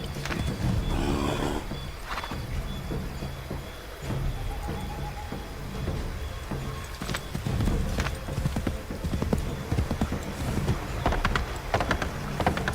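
Horse hooves clip-clop rhythmically while riding in Assassin's Creed III Remastered, a steady galloping patter with occasional louder thuds and game ambience behind it.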